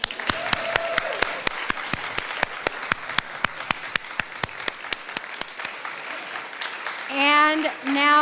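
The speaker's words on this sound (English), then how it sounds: "And we can do another wild applause." Rhythmic audience clapping at a church gathering honoring generations of family, sharp evenly spaced claps keeping a steady beat, with cheering voices and a whoop rising near the end.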